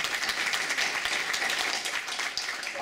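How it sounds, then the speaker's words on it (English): Audience clapping at a City of Heroes Freedom player summit costume design workshop in 2012, a dense steady round of applause filling the room throughout, fairly loud and without speech over it. "give her a round of applause"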